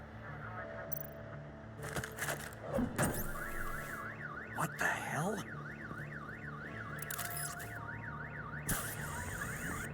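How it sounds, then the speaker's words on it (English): Car alarm in a Batman video game, set off by a bat stunner, whooping in a rapid rising-falling warble that repeats loudly for several seconds, with a startled voice and other game sounds around it. "My bat stunner would set off the car alarm."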